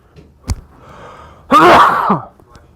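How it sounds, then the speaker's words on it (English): A single sharp sneeze, a quick intake of breath and then a loud burst, close to the listener, with faint clicks around it. "I'm about to sneeze"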